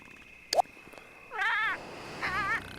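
A cat in The Sims video game gives two wavering meows, the first longer and louder, the second shorter, after a brief click, with no speech.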